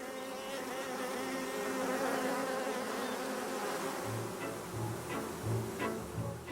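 Honey bees buzz inside a hive, a dense continuous hum close by, with faint low pulsing buzzes toward the end.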